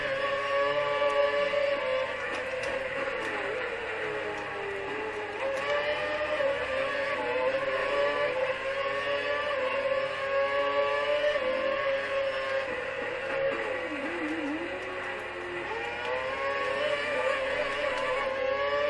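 A Formula 1 car engine in the F1 2012 racing game at the Bahrain Grand Prix circuit, a continuous high-pitched whine that rises and dips in pitch through corners, steady and loud throughout with no voices.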